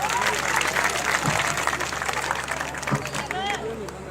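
Lively applause from a crowd at a village gathering in India fills the space, dense and continuous, with cheering voices mixed into the clapping.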